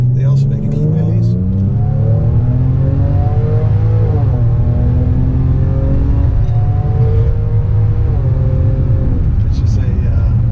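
A Jaguar F-Pace SUV drives along with a loud, steady engine rumble from inside the cabin, its pitch climbing and then dropping with gear changes at regular intervals.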